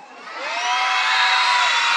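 Crowd of elementary schoolchildren at a school inauguration shouting and cheering together, a loud, sustained high-pitched roar that swells in the first half-second and then holds steady without pause.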